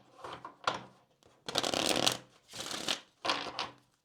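A deck of Kipper cards shuffled up close in several riffling bursts separated by short pauses, crisp and fairly loud with no talking.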